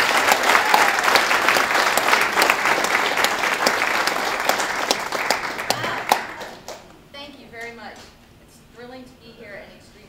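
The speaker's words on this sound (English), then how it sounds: "let's give a round of applause" An audience at a local history talk gives dense, sustained applause to welcome a speaker. The clapping is loud for about six seconds, then fades out, and a single voice begins speaking.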